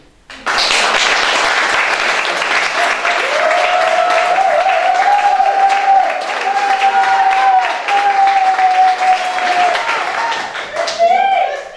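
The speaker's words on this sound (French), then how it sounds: "Applaudissements, allez." Audience applause at a live French stage show swells in abruptly and holds as dense, loud clapping for several seconds, with a few shouts near the end.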